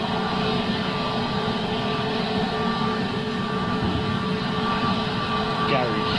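Jet airliner engines spooling up, compared to a small GE90, a loud continuous roar and whine with steady tonal hum throughout, broad and sustained with no voices over it.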